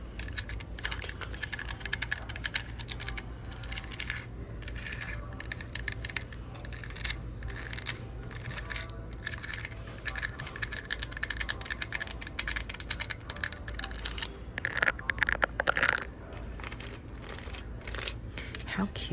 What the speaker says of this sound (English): How cute is this little typewriter?